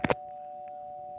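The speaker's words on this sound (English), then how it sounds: "That's the doorbell." A doorbell sounds with two quick strikes, then a steady ringing chime that holds for about a second, close and clear in a quiet room.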